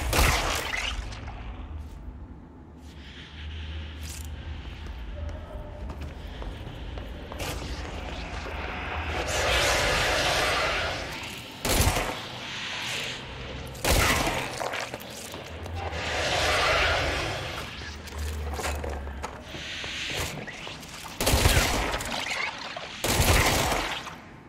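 Gunfire in the video game Control as shots hit objects on the walls, with dense bursts of shooting, heavy booms and crackling impacts over a rumbling low backdrop across most of the stretch.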